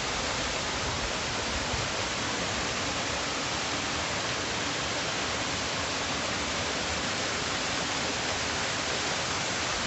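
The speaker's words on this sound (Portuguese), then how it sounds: "Olha que linda, olha que cachoeira," A waterfall in the Alto da Boa Vista forest roars as a dense, constant broadband rush, loud and close, with no break or change throughout and no voices over it.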